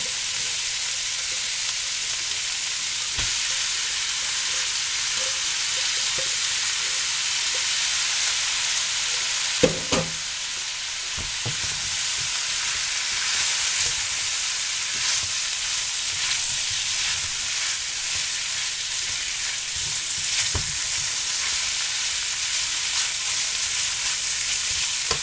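Noodles being stir-fried for beef lo mein, a steady close sizzle with occasional clanks and scrapes of the utensil against the pan, no talking.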